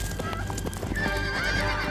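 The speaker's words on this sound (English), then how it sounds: "Oh, he took a horse." A horse in a film scene neighs and whinnies over the clatter of hooves galloping, with a faint voice in the mix and a dense layer of movie soundtrack behind it.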